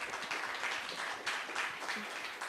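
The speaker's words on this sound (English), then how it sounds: "Round of applause for that statement." Applause from an audience at an IT and creative-industry professionals' event, a steady dense patter of clapping at low volume with no voices over it.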